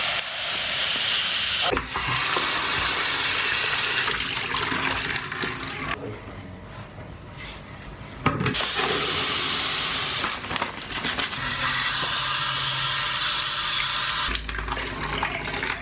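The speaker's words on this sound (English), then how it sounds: "we put the sand in, wash them through with water" Running water gushes steadily into a bowl as sand is rinsed through it, loud and close, with brief gaps and changes in flow where the stream is interrupted.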